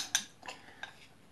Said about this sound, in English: we mix the remaining marinated sports mixture into the sherbet